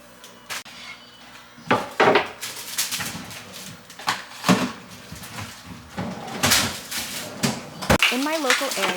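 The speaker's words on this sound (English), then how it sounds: "use this time to power through the washing up and get the sink cleared." Dishes being washed up at a kitchen sink, irregular close clatters and knocks of plates and utensils between bursts of running water, with a brief squeak near the end.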